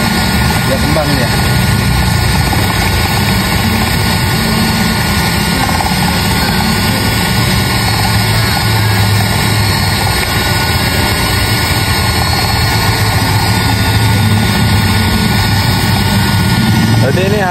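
Eggs and sugar are beaten at length for a Padang-style cake, giving a loud, steady mechanical whirring drone that runs unbroken throughout while voices talk over it.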